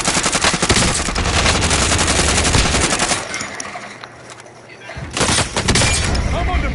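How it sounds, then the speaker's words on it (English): Dense automatic gunfire rattles loud and close in Call of Duty Warzone, with rapid bursts that pause briefly and then resume, while players talk over it. "I'm under fire"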